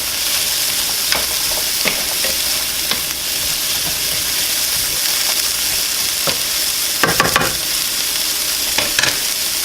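Carrots frying in a pan for a beef and rice camping meal, a loud steady sizzle broken by repeated scraping stirs, the strongest ones clustered toward the end, with no talking.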